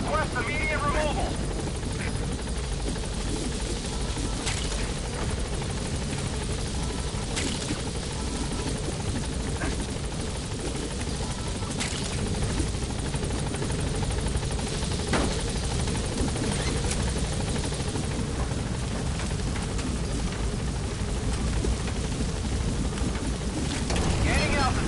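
Helicopter in Metal Gear Solid V: The Phantom Pain holding near a landing zone and then lifting off, a steady loud rotor roar filling the whole stretch with in-game radio voices over it.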